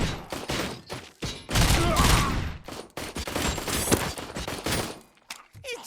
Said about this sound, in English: I shot the one with the gun.